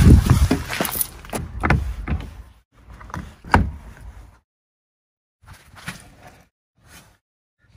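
Charging cable being plugged into a Kia e-Soul electric car: a series of close plastic clicks and clunks as the connector is handled and seated, then near silence broken by a few fainter knocks and clicks.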